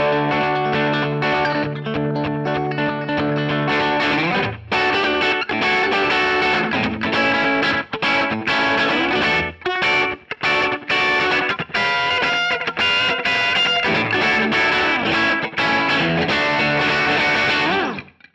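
Rockabilly electric guitar played through a Kemper Profiler with slapback echo, bright twangy picked riffs and chords with short repeating echoes, loud and continuous with brief pauses between phrases and no talk.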